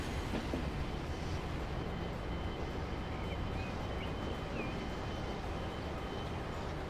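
Train running along a track in the Transport Fever game, a steady moderate rolling rumble with faint squeals, continuous with no voices.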